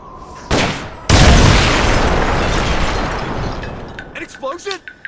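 An explosion in the Xbox game Metal Gear Solid Peace Walker: a loud, sharp blast that rolls into a long, rumbling decay lasting several seconds, with a brief voice and game sounds near the end.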